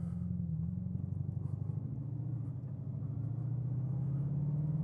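Bugatti Chiron Sport pulling away and accelerating, a low, steady engine rumble with a smooth rising drone heard from inside the car, no voices over it.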